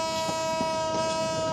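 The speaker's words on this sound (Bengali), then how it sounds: "কোনো শিডিউল বিপর্যয় ছাড়াই যথাযথ সময়ে ছেড়ে যাচ্ছে ট্রেন" Train at Kamalapur railway station in Dhaka, heard as a steady, loud rumble with a sustained tonal whine or horn-like drone running throughout, no voices.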